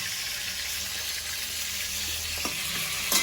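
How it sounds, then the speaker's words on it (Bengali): Cooked masala hits a hot pan in a home kitchen and sizzles steadily and evenly at close range, with a brief knock and a louder burst right at the end. "মশলাটা হয়ে গেছে এটাকে ঢালবো ঢেলে দেবো"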